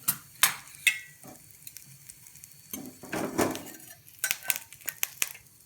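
Tamarind roasting in a pan for sesame chutney gives off sparse scraping and clinking stir strokes, close and fairly quiet, with a few louder spatula knocks.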